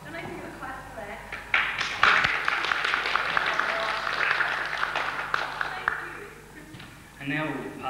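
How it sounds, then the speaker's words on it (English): A convention audience at a Doctor Who event with a guest actress breaks into dense, sustained clapping for several seconds, then a voice speaks as it fades. "Don't I give a clap for that?"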